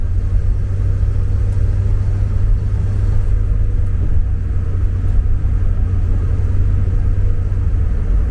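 Mazda MX-5 with a misfire fault driving along at night, its engine giving a steady, loud low rumble that holds throughout with no talk.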